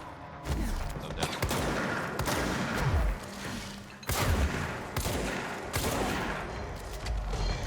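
Gunfire from the Control video game sounds in bursts of sharp shots and heavy booming impacts, with rumbling pauses between volleys, loud and close, with no speech.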